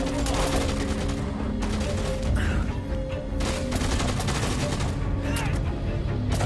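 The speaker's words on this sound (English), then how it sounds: "Oh, I'm being shot." Dense, continuous gunfire from the video game Dead Rising 2: Off The Record, rapid overlapping shots and booms filling the whole stretch at steady loudness, with a voice talking over it.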